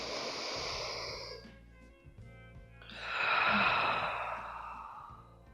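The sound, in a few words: deep breath in during breathing exercise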